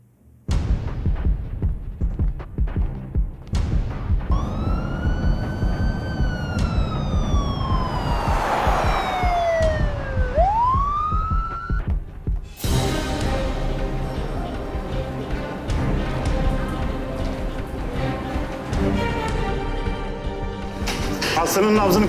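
An ambulance siren wails loudly through rising and falling tones, sweeping up and down, before giving way to dense music with voices present.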